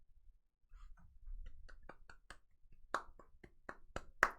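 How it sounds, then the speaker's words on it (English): Hand clapping from a single person, starting with a few soft claps and building into a quicker, louder run of sharp claps, close by and alone. "Claps."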